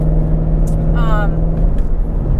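Ford Shelby GT350 Mustang engine under way, a loud steady rumble with a sharp rising rev near the middle, heard from inside the car while a voice talks over it.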